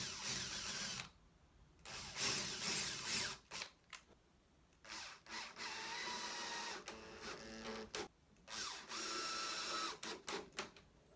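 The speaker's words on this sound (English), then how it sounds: "Now I'm going to take a bigger drill and recess the head." Power drill recessing a screw head in a broken bifold door, a high whine running in several bursts of a second or two, separated by short pauses, close and loud with no talk.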